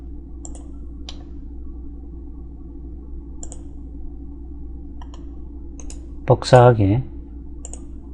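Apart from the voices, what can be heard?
mouse clicks in CAD software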